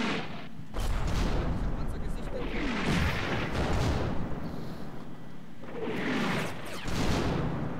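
Distant booming shots and rumbling blasts roll through a video game battle, recurring in several heavy bursts beneath quiet talk.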